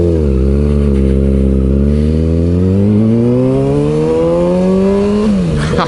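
A Kawasaki ZX6R 600 sport bike on a test ride revs and pulls hard, its engine note climbing steadily in pitch over several seconds before a brief dip as it shifts; loud and close, with no talking.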